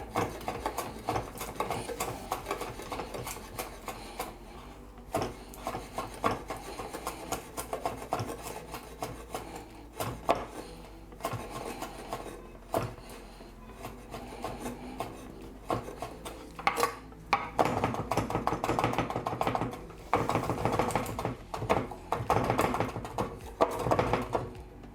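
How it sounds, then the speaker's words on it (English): Flat leaf Italian parsley chopped with a knife on a board for shrimp pasta arrabbiata, bursts of rapid rasping, tapping strokes near and fairly loud, pausing and resuming, with no talk. "We're gonna take that and go ahead and just give that a nice chop. I'm gonna chop it up pretty good here."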